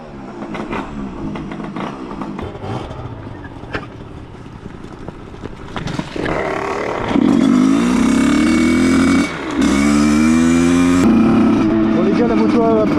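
A 50cc motorcycle engine idles and then revs up loudly close by, its pitch climbing and falling through several throttle blips while people talk over it.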